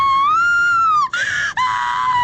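A single sustained scream in the horror video game Corpse Party: Book of Shadows, loud and close, a high wavering cry that briefly breaks and rasps before resuming at full strength.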